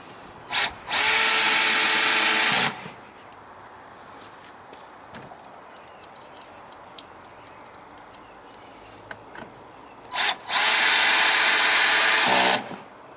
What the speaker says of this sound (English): I'm going to put the 2 screws in to hold the door in place, and I set my clutch